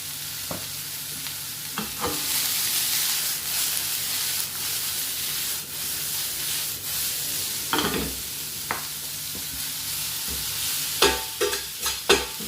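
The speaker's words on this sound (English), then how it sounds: "I'm just sauteing off the vegetable, but I don't want them to overcook." Vegetables for a ginger, chilli and lemon prawn stir fry sauté in a hot pan, a steady loud sizzle broken by several clattering stirs and scrapes, with no talking.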